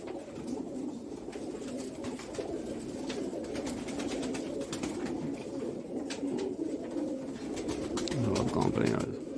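Sialkoti pigeons cooing in a loft, a steady low murmur of overlapping coos that lasts throughout, with faint rustling and background noise beneath.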